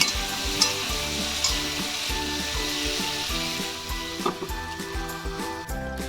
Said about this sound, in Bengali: এখানে নেড়ে নেব, ভালো করে ভেজে নেব